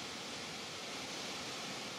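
A waterfall at South Cumberland State Park in Tennessee gives off a dense, steady rushing roar that stays even and unbroken throughout, heard alone without voices.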